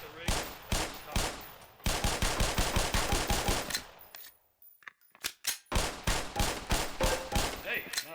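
Pistol fire on a shooting range in the game Black Mesa, sharp loud shots in steady rhythmic strings, a short pause with a few scattered shots, then another run of evenly spaced rounds.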